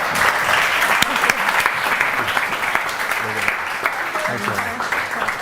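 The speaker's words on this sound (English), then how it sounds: "Round of applause, folks." Sustained applause from a conference audience, a dense wash of clapping that fills the room at close range, with a few voices talking faintly underneath.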